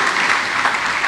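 Church congregation applauding, a dense, loud, even wash of many hands clapping close by, with no other sounds.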